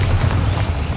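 A Bombarda spell explosion in Hogwarts Legacy gameplay on PC, heard as one loud, deep, rumbling boom that fills the whole short moment and fades slightly toward the end.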